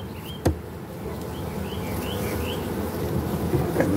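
Honey bees drone steadily at an open hive, a close, continuous buzz with individual bees whining past, plus a sharp knock early on and soft birdsong faintly behind.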